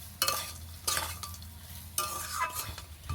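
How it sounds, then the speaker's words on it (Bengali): A spatula stirs a fried potato and peanut samosa filling in a pan, three or four distinct scraping strokes over a low, quiet sizzle. "আবারও ভালো করে একটু নেড়ে চেড়ে মিশিয়ে নিতে হবে।"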